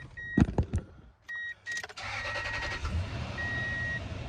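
A Tundra truck engine with new spark plugs cranks with a few sharp bursts, then catches and settles into a steady, even idle, with a thin high whine running over it.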